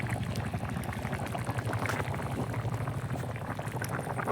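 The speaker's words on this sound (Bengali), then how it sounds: "সুন্দর টকবক করছে।" Thick Bengali curry of young jackfruit (echor) with fish bubbling hard in a pot, a steady close, dense blubbing and popping that runs evenly throughout with no voices.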